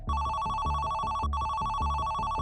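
Telephone ringing as a sound effect, with a steady electronic ringtone repeating in two even bursts, loud and close, with no talking.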